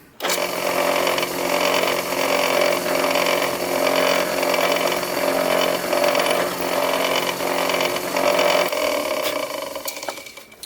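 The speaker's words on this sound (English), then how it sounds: "we are going to drill down" A drill press with a 1/4 inch Forstner bit whirs steadily at close range for about nine seconds, a loud droning motor hum that cuts off near the end.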